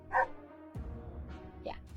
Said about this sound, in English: Yeah, that's the dog.